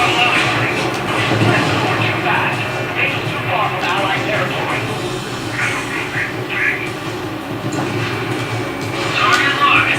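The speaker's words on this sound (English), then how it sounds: "These are helicopters." Helicopters in Ace Combat 7 produce a continuous heavy rotor and engine drone with rumbling low end and shifting whooshes, loud and steady for the whole stretch, mixed with game effects.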